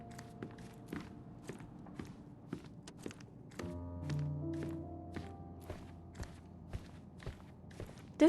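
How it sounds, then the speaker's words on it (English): Footsteps thud overhead in the Sherlock Holmes Chapter One video game, a steady run of soft, irregular knocks from an upper floor, with a low ambient hum swelling briefly in the middle. "I heard footsteps upstairs a second ago."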